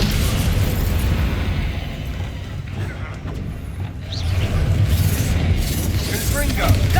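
Confringo explosion spells go off in a Harry Potter video game, rumbling blasts and bursts rolling over a busy in-game din while a player talks.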